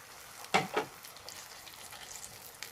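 Water poured into a pan of golden fried onions with pomegranate molasses hits the hot oil in two quick hissing bursts, then settles into a soft, faint sizzle with no talking.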